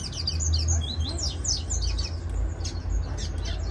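A double-collared seedeater sings a run of quick, sharp chirping phrases, fairly faint and slightly distant, over a low steady background rumble.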